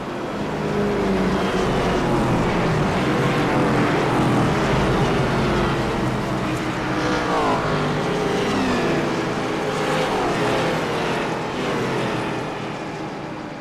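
IROC race cars take the green flag at the start at Nashville Super Speedway, and the pack passes as a continuous loud engine roar. Multiple engines blend into a dense, steady drone with shifting pitch as they sweep by, with no speech.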